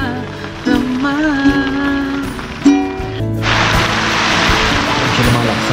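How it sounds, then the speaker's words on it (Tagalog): Heavy rain pours in a dense, loud hiss during a Category 5 typhoon at a campsite, rising to a strong roar in the second half after a voice sings over musical tones early on. "Medyo lumalakas na ulit ang hangin at ulan."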